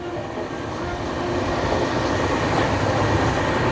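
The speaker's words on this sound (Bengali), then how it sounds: "ট্রেন চলছে" A night train runs steadily on the route past Chilka, heard from inside the coach as a constant low rumble and rattle that swells slightly, with no talk.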